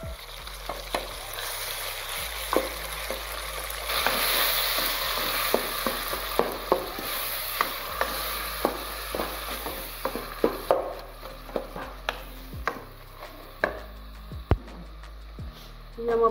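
Tomatoes fry in a pan for a village anda aloo bhujia. A steady sizzle runs throughout, broken by repeated sharp scraping clicks of stirring, with no talk.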